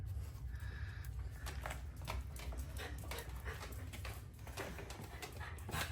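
A small dog whimpers and pants inside a foldable wheeled cage, with soft repeated breaths and faint whines plus light rattling, steady and close with no talking.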